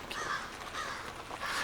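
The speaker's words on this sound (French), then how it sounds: "on entend les corneilles qui criaillent" Crows caw repeatedly along a quiet country road, a few harsh calls spaced across the moment at moderate distance with faint background.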